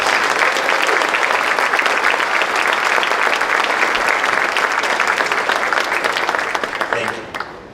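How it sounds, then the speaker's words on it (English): Loud, sustained applause from an evening awards audience honoring sponsors and groups, a thick continuous roar of clapping that stays strong before thinning and fading out near the end. "Please join me in giving these individuals and groups a round of applause"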